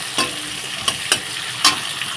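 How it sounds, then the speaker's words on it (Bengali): Onions fry in a wok, with a steady background sizzle and a few sharp scraping stirs spaced irregularly across the short stretch, close and moderately loud with no talking. "পেঁয়াজগুলো দিয়ে দিয়েছি, পেঁয়াজগুলো কিন্তু লাল লাল করে ভাজা করে"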